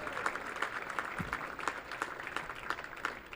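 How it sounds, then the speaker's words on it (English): An audience at a college baseball conference championship awards presentation applauds the Catawba College seniors, a steady, fairly distant and soft ripple of many hands clapping that continues for several seconds without speech. "One more round of applause for the seniors from the Catawba College Catawba Indians."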